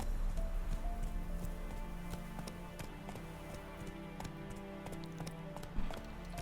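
Horse hooves gallop in the Witcher 3 video game as a steady, fast clip-clop of repeated thuds over a dense, continuous game background, fairly loud and close throughout.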